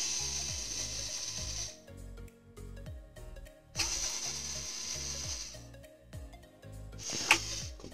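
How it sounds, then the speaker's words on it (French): A Phillips screwdriver, likely powered, removes screws from a graphics card circuit board in three bursts of quick ratcheting, whirring turns, close and fairly quiet, with pauses between them. "Alors moi j'ai un tournevis cruciforme, ça ira beaucoup plus vite."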